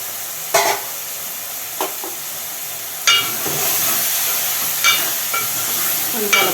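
Ridge gourd and moong dal curry sauté in a pan, a steady close sizzle broken by several sharp scrapes and knocks of a stirring spoon at irregular intervals; no voices.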